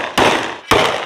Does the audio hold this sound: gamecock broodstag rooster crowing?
no